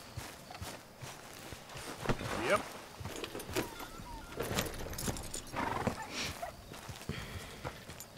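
Horse hooves clip-clopping with an occasional neigh in Red Dead Redemption 2, uneven footfalls at close range mixed with other game sounds while people talk over them.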